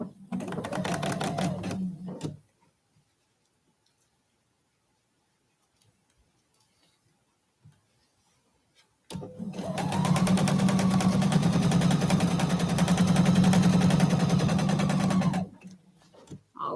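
A sewing machine stitches quilt patches: a short burst of rapid, close stitching, a long quiet pause, then a sustained run of steady needle strokes for about six seconds before it stops.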